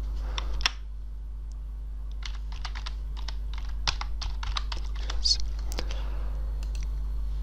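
Computer keyboard keys tapped in short irregular bursts while entering a phone number, close and fairly quiet over a low steady hum, with a soft voice murmuring underneath.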